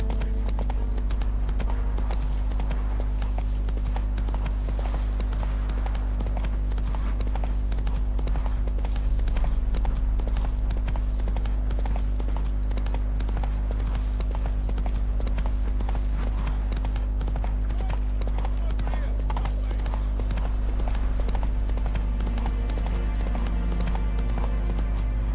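Roach the horse galloping in The Witcher 3, steady rapid hoofbeats running continuously over a constant low game rumble, with no letup.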